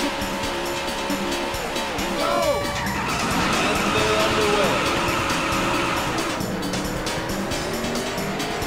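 Race car engines roar in Trackmania Turbo on Xbox One X at the start of a race, loud and continuous, with rising engine pitches and tire squeals layered over one another.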